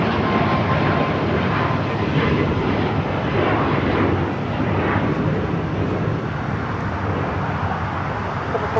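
A 25-year-old United Boeing 757-200 from Boston at Los Angeles International Airport, its engines giving a steady, loud broadband roar that holds throughout with no voices.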